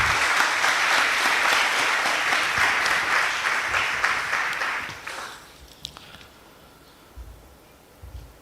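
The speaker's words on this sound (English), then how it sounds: "may I have a big round of applause for our speakers and moderator" Audience applause for the speakers and moderator at an international economics and business seminar, a dense, loud burst of clapping for about five seconds that fades, followed by near quiet with a few faint knocks.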